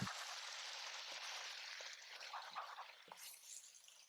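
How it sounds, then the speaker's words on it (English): Conchs seasoned with green seasoning, onion and salt get stirred in a pot, giving soft, faint wet sloshing and scraping with a few small clicks against the pot. "We'll give it a stir to combine."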